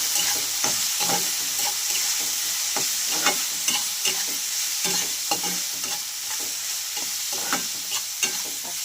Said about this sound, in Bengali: আস্তে আস্তে মশলাটাকে আমি কষিয়ে নেব